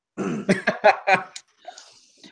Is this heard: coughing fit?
yes